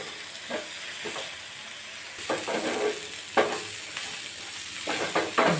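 Tempering for raw banana peel chutney fries and sizzles in a pan with a steady crackle, punctuated by several spoon-stirring scrapes at irregular intervals.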